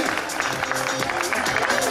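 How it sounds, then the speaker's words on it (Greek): Crowd applause at a half marathon event in Sperchiada, Greece, steady clapping from many hands across the whole moment, mixed with a voice over a loudspeaker. "Ένα μεγάλο χειροκρότημα"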